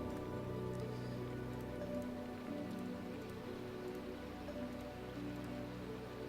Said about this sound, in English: That rain is really relaxing.